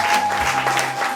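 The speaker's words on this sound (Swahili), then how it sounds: "Hebu tumpigie Bwana Yesu makofi." A church congregation bursts into brisk clapping for Jesus during a worship service, a short dense burst of many hands with a steady electronic hum beneath.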